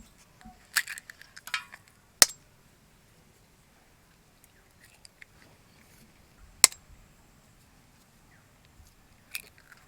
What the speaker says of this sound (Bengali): তো প্রথমেই আমি 4টে ডিম ফাটাই নেব।